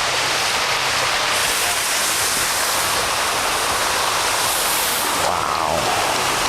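An artificial waterfall pours into a shallow, clear river, making a loud, continuous broadband rush of falling and flowing water that stays steady throughout, close by and unbroken.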